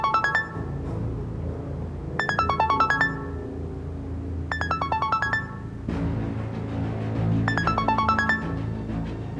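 A phone rings in repeated electronic bursts of rising and falling beeps, separated by short pauses, over a low background rumble.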